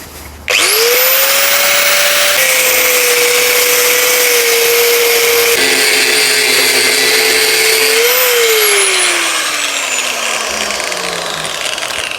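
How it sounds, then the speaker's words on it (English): An angle grinder cuts off weld on the door of a David Brown 885 tractor, spinning up to a loud, sustained, high-pitched whine. The pitch shifts as it bites into the metal, then slowly winds down near the end. "Let me get the grinder and let's just nick that bit off first."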